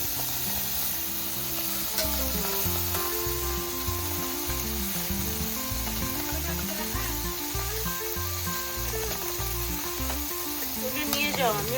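Fish fries in a small amount of oil with a constant sizzle running throughout, while a low, steady musical tone plays underneath.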